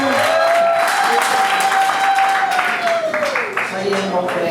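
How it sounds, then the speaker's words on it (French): Wedding guests at a civil marriage ceremony break into sustained applause, a dense wash of clapping that fills the room at a steady level, with a voice carrying over it briefly. "On applaudit toujours, s'il vous plaît, parents."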